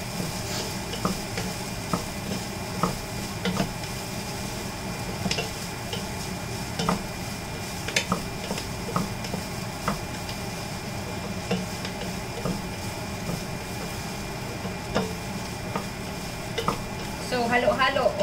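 Onions sautéing in a pan for chilli are stirred with a utensil, giving repeated scrapes and ticks over a soft, steady sizzle, with a brief burst of louder clattering at the end.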